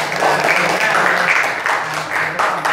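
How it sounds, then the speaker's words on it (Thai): A class of students claps for a classmate in a school classroom, a loud, continuous burst of applause with voices mixed in underneath. "ปรบมือให้เพื่อนนะครับ"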